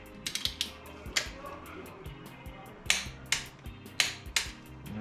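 A torque wrench tightens bolts on a Subaru GC8 timing belt tensioner, giving sharp ratcheting clicks in short irregular bursts up close, with faint background murmur.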